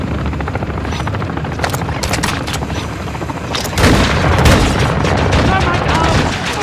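A helicopter gunship in the video game DMZ roars through a firefight, its rotor thrumming under bursts of gunfire and booms, growing louder and denser partway through, with voices mixed in.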